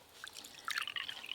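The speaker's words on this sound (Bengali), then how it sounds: "এই কাপে 4 কাপ বেসন নিয়েছি, 2 কাপ জল দেব।" Water is added a little at a time to gram flour batter for bundia, with soft dripping and trickling sounds close by, quiet at first and then a brighter run of splashes.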